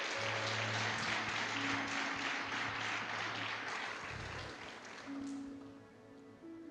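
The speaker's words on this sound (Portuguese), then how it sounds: "Dá uma salva de palmas ao Senhor" Church congregation clapping during a family worship service, a soft, distant patter that holds for several seconds and then fades out, with a low hum underneath.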